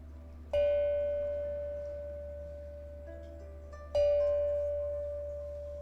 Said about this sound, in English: let's start first with some bells so we can clear the energies